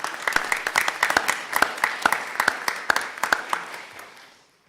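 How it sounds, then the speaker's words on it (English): A small group at a city school board meeting gives a round of applause. Separate claps land in a fairly steady rhythm, clear and close, then thin out and fade to silence. "I want to give you a round of applause"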